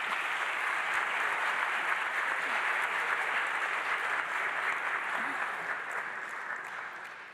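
Auditorium audience at a lecture applauds in a dense, even burst of clapping that holds steady and fades slightly toward the end, with no voices over it.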